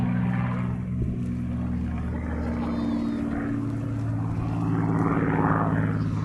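A Supermarine Spitfire flies an aerobatic display at the Classic Fighters airshow in Omaka. Its propeller engine drones steadily overhead with a deep, sustained roar that swells a little toward the end.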